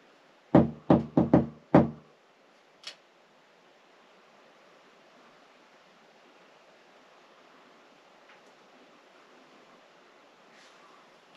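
Knocking on a door in a haunted orphanage: a quick burst of five loud knocks, then one fainter knock, followed by long quiet hiss of room noise.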